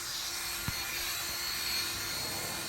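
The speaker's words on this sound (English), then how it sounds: "Follow up with the drill brush." A drill-driven brush scrubs chemically treated upholstery fabric with a constant, high whirring drone, close and moderately loud, with one brief knock partway through.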